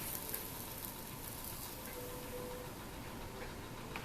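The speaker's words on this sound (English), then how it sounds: "I'm just going to kind of melt that garlic butter on the bun" Garlic butter melts on a burger bun in a hot pan, giving a steady, close sizzle with faint crackles throughout and no voices.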